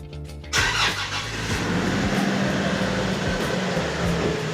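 A Nissan Navara engine starting up and settling into a steady idle after a fuel filter change, the sound loud and close after a quiet opening half-second.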